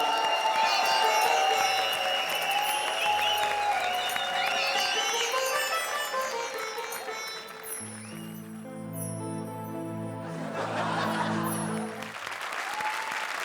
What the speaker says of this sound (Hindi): तो जोरदार तालियों के साथ स्वागत कीजिए पेज 3 बाबा